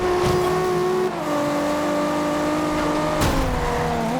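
Loud Nissan IDx concept car engine in Forza Horizon 2 revving continuously, pitch shifting up and down with gear changes, a high-pitched mechanical whine over the roar.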